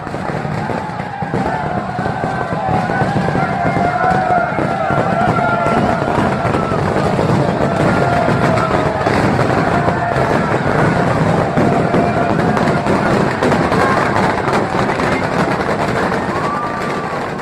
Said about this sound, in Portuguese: A queima de fogos em louvor ao Senhor do Bonfim no dia 1º de janeiro